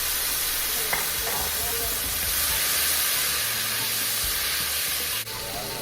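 Tomato added to a hot pan of softening onion sizzles and hisses steadily and fairly loudly, with a faint scrape of stirring near the end.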